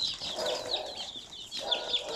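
A large batch of baby chicks chirping together, with a dense chorus of high, thin peeps continuing throughout at close range.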